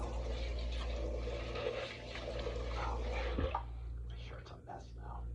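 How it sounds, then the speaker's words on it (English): Cold tap water runs while a man rinses his face after a beard shave with a shavette. A steady, close rush of water flows, then cuts off about halfway through, leaving only faint drips and splashes. "I'm using cold water now."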